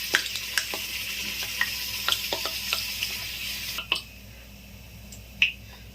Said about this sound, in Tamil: பூரி பொரிஞ்சிருச்சு, எடுத்துடலாம்